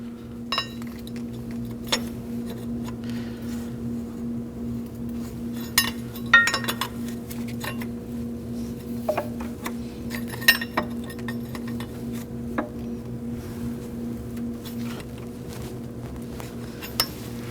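Metallic clinks and taps from a 24mm wrench working loose the oil pressure switch on a Kia Optima, scattered sharp ticks over a steady low hum, with no talking.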